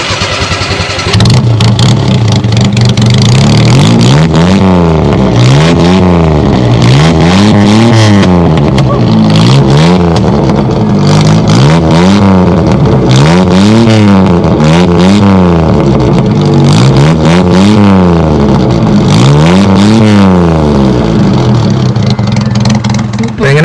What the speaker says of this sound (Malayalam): ഇനി നമുക്ക് ഇതിൻ്റെ എക്സോസ് നോട്ടൊന്ന് കേൾക്കാം.